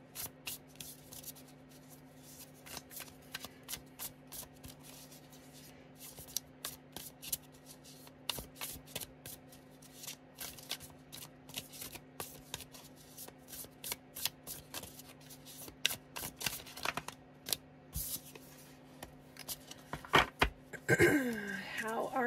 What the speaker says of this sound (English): This deck's been shuffling really weird today.